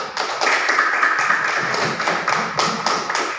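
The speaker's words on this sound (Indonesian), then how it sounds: "Tepuk tangan untuk kelompok 1" Students applauding a classroom group after its presentation: a steady run of close, fairly even claps lasting a few seconds.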